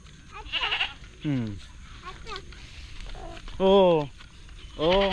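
Several goat bleats, loud and close, come in separate wavering calls with pauses between them, alongside a few fainter higher bleats and a quiet outdoor background.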